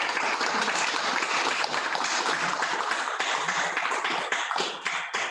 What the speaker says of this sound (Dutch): een groot applaus voor de sprekers